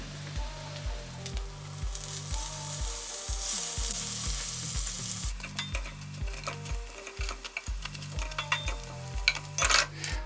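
French toast frying in a pan crackles with a continuous, moderately loud sizzle, with occasional pan and utensil clinks and steady music running underneath.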